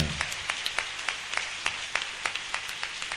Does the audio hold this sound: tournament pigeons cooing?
no